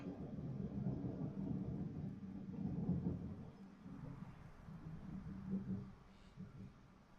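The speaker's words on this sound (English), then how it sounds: "There was a lot more thunder." Low, rolling thunder rumbles steadily throughout, swelling around the middle and fading slightly toward the end, heard faintly at a distance with no one talking.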